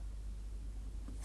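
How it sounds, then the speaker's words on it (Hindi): A teacher writes a statistics formula on a classroom board, producing a faint, steady scratching and scraping of chalk or marker that runs throughout over a low background hum, with no talking. "ये फॉर्मूला हमारा फिर से लिखती हूँ बच्चों"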